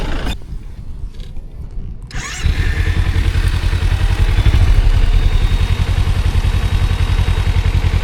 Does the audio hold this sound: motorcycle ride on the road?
yes